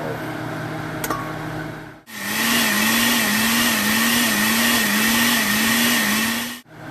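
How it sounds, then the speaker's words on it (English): After a brief clink, a blender motor roars steadily for several seconds blending chile colorado, with a slightly wavering pitch, then cuts off abruptly. "Get this into a blender and we're going to blend that bad boy."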